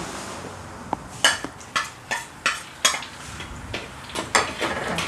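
Pla som, Thai fermented fish, fries in a pan, with a steady sizzle broken by repeated scraping strokes of a utensil against the metal, close and fairly loud.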